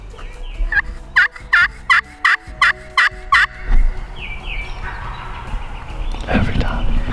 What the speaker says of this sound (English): He gobbled it.